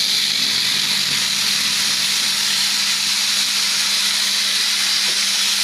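Steady hissing and bubbling of water in a pot heating toward a boil for spaghetti, a continuous broadband rush with a low hum underneath, no voices.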